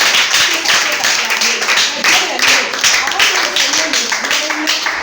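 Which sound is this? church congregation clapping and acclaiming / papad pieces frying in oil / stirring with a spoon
church congregation clapping and acclaiming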